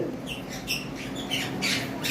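Cockatiels at a bird farm squawk in a flurry of sharp, harsh calls, several overlapping bursts in quick succession over a steady background hum.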